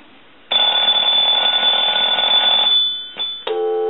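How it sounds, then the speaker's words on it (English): A Spirit of St. Louis telephone's ringer sounds a loud, continuous electronic warble for about two seconds, fades off, then resumes with a changed, louder tone. "Depending on how much ring voltage your telephone line is being sent, that's all the way down and then all the way up."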